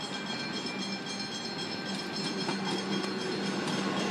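An EDI-refurbished Comeng suburban train pulls into platform 3 at Essendon station in Melbourne, a steady rumble of rolling wheels and motors close by with no voices.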